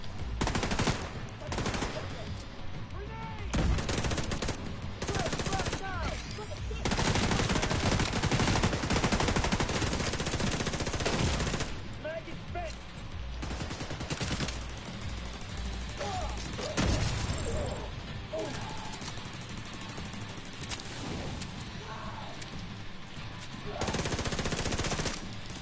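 Automated turret in The Division 2 firing on enemies, sustained bursts of rapid gunfire with crashes and impacts, loud and continuous through most of the stretch, with occasional pauses.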